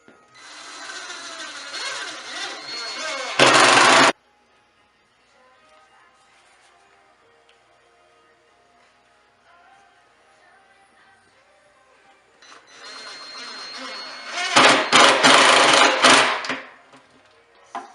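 Rough grinding of a drill boring into a wooden subwoofer enclosure, in two loud bursts separated by a quieter stretch of faint rubbing and handling noise.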